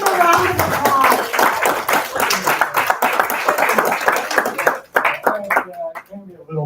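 An audience claps at a live talk event, dense rapid applause filling most of the stretch and then thinning into scattered claps, with voices speaking over it.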